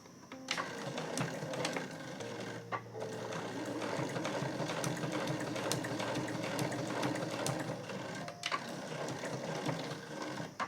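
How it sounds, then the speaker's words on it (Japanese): A sewing machine stitches fabric pieces for a tucked pouch, running steadily, its rapid mechanical stitching whir continuing with a brief pause, faint and even throughout. "こうミシンで縫っていきます。"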